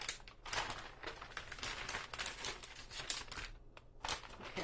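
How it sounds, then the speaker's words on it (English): Scissors snipping and crinkling at a plastic bag, a steady run of rustling crunches close by, with a brief pause near the end. "I can't even cut into this bag."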